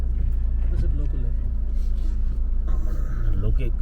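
Cars on a road through a mountain village in Niti Valley, Uttarakhand, give a steady low engine rumble throughout, with people talking over it nearby.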